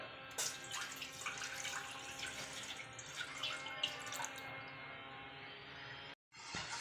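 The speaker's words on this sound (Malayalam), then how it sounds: "അതിലോട്ട് നമുക്ക് പാൽ ഒഴിച്ചു കൊടുക്കാം" Milk is poured into a pan on a stove, a faint, steady liquid trickle that runs continuously, briefly drops out near the end and then resumes.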